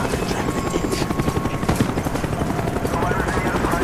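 Helicopter in the Call of Duty: Black Ops video game, a loud steady rotor thrum with rapid chopping pulses dominating throughout, with a voice speaking over it.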